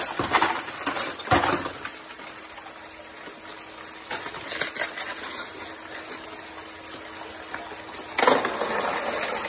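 A mini high banker sluice washes rocks and gravel with a steady rush and gush of pumped water, punctuated by loud scraping, rattling bursts of stones being dumped and tumbling through, close by with no talking.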